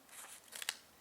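Scissors snip through paper for a paper-pieced quilt block, a few faint, quick close cuts with a crisp crunch near the end of a brief moment.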